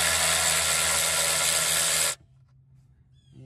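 A power tool spins a deep well socket on a nut on a 2004 Chevy Malibu. It gives a loud, steady whirr for about two seconds, then stops, leaving quiet rustling.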